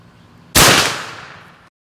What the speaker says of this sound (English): So again, 50 yards, just plinking, shooting a 457, 255 grain bullet.